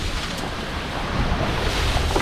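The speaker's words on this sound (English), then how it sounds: "it's hella windy right now" Steady, broadband wind roars and buffets the microphone at a wakeboarding spot, loud and continuous with no other sounds.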